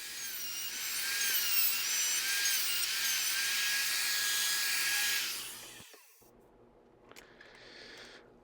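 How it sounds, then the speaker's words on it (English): A wood router guided by a jig runs along the workpiece with a steady high whine for about five seconds, then winds down, followed by a faint brief spin-up near the end. "ran the router up and down the other four locations"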